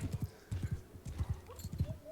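Rapid clip-clop of horse hooves trotting in quick paired beats, close and steady, with no talking over it, in the video game Mount & Blade II: Bannerlord.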